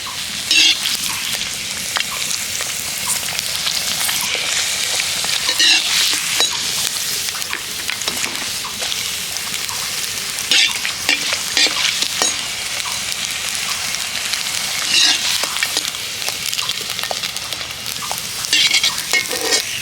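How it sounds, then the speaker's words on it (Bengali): Sago papad puffs up in well-heated oil, producing a loud, continuous sizzle packed with crackles and brief pops, heard close up for a long stretch. "পরের পাঁপড়টাও একই রকমভাবেই ভেজে নেব। তেলটাকে একটু বেশি করে গরম করতে হবে।"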